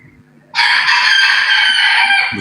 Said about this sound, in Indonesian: Berisik ayam nih.